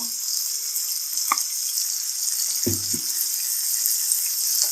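Small fish and dried fish fry in a pan for a Bangladeshi mashed fish dish, making a constant loud sizzle with a few scraping clinks as they are stirred.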